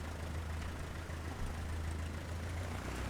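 Hawker Hurricane Mk I piston engine running in Microsoft Flight Simulator, a steady low droning rumble at an even, fairly quiet level with no talk over it.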